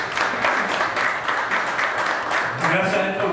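Crowd applause at a 2011 Double-A baseball all-star home run derby in Coamo, a dense, steady roar of many hands clapping together, with a voice starting to speak near the end.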